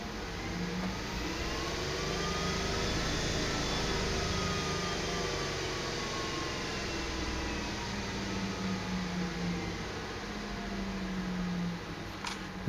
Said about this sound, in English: You'll hear the motor spin up, and you'll see the battery indicators go under load.